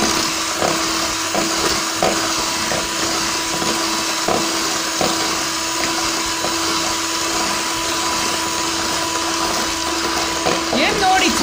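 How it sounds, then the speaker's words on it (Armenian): An electric mixer whirs steadily, beating an egg mixture as sugar is gradually added for a biscuit roll sponge, a loud continuous drone with faint scraping clicks throughout. "Եվ նորից հարում ենք այնքան, որպեսզի ինքը լավ սպիտակի"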